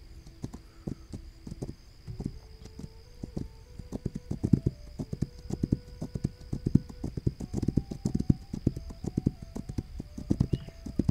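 Horse hooves clip-clop steadily in This Land Is My Land, a brisk rhythmic trot running throughout with a faint tonal game hum beneath it.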